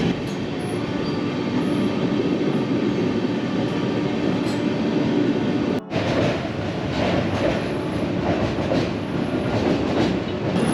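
The Doon Express runs out of Lucknow station, wheels clattering on the rails in a steady, loud rhythm with carriage rumble and no voices.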